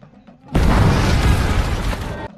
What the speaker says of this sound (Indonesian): dia harus merelakan kapalnya tersebut meledak